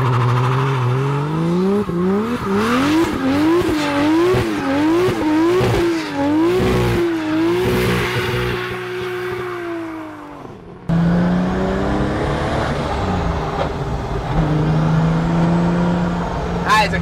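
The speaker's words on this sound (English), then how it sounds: "Good-sounding car, isn't it?" A 693 bhp Nissan Silvia S14 with a swapped 2JZ engine revs hard and accelerates, loud and close, with rising and falling engine pitch and a burst of tire squeal, then settles into a rough idle.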